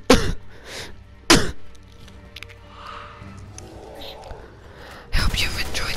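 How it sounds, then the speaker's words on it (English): In a Resident Evil video game, several sharp, close coughs break out at intervals, separated by quieter stretches with faint background sounds. "I hope you've enjoyed those coughing sounds"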